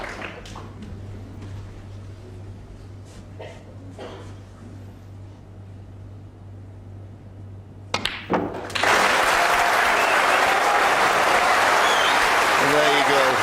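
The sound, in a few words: audience applauding snooker century break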